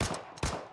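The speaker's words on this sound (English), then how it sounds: "Gunshots ring out." Gunfire from the video game NIKKE comes as two sharp, loud bursts spaced about half a second apart, each fading quickly into a short echoing tail.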